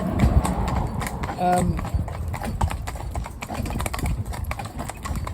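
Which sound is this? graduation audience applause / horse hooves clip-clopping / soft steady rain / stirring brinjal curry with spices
horse hooves clip-clopping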